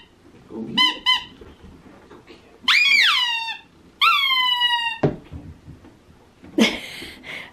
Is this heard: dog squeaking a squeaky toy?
yes